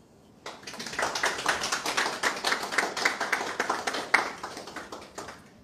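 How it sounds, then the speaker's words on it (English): Audience applause at a public event welcoming Yusuf Datti Baba-Ahmed, a steady round of many hands clapping that starts abruptly and holds at moderate loudness for several seconds before tapering. "Let us give a wonderful round of applause to His Excellency Datti Baba-Ahmed."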